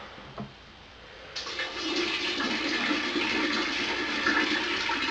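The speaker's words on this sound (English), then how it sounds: "I'll drop this into the fermenter." Beer wort for an Irish red ale is poured into a fermenter. After a faint knock, a rushing, splashing stream of liquid begins suddenly and keeps going steadily until the end.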